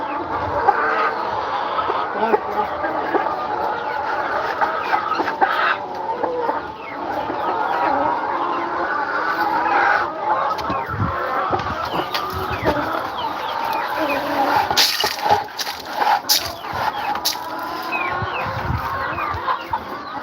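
Chickens on a farm cluck and murmur steadily throughout, with occasional rooster-like calls and brief knocks, heard outdoors at moderate distance with a faint voice at one point.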